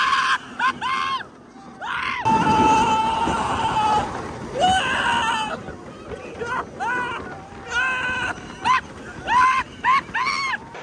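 Riders scream repeatedly on the Accelerator roller coaster at a theme park, loud shrieks rising and falling in bursts over a constant rushing roar of the ride.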